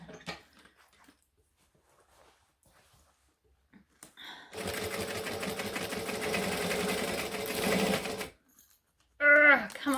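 Sewing machine stitching thick bag fabric, a steady, loud whirring run of about four seconds in the middle, with quiet handling noises before it and a brief voice at the end.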